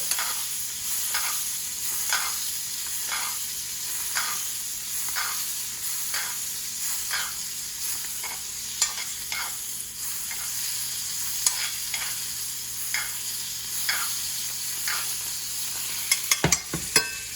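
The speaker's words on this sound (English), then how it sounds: "I begin to baste that steak. It's already brown butter." Steak basted in hot brown butter, a steady sizzle with a rhythmic spoon scrape roughly every second, close and continuous, a few sharper clatters near the end.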